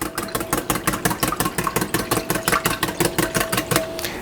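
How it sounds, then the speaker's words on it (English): Aebleskiver batter of eggs and milk is whisked briskly in a bowl, making rapid, even, rhythmic strokes, about four to five per second, close and fairly loud with no voices. "Give it another little whisk here."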